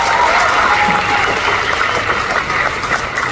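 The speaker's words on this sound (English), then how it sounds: "One more big round of applause for the ladies." A cruise-ship theater crowd aboard Royal Caribbean's Navigator of the Seas applauds loudly and steadily during a ventriloquist show. The clapping is a dense, sustained roar with no speech.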